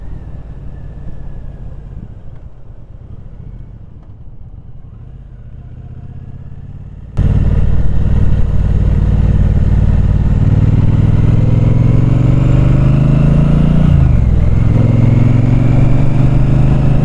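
A 2024 Triumph Speedmaster 1200 motorcycle being ridden, a muffled rumble that jumps to a loud, steady engine drone with heavy wind roar, pitch dipping briefly near the end, no talk.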